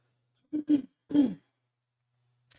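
Three quick, close throat-clearing grunts in a row, the last one longest, then quiet apart from a faint click at the end.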